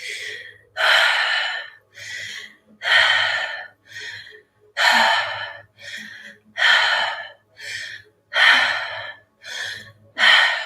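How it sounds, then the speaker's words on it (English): Repeated deep breaths drawn in during a guided morning meditation, about ten loud close-up inhales and exhales in a steady rhythm with brief pauses between, no talking. "Last few, breathing in wholly and completely."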